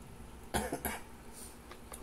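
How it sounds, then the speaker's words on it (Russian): A person still recovering from illness coughs twice in quick succession, close and fairly quiet, with a faint throat sound after in a calm room. "Кашель еще не прошел полностью."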